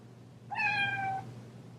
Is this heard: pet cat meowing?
yes